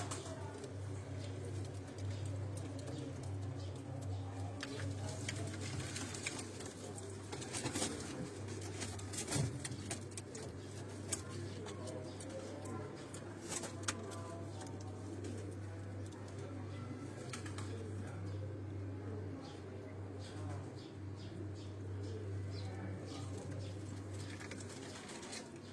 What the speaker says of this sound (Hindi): ये सारे सियालकोटी ब्रीड के कबूतर हैं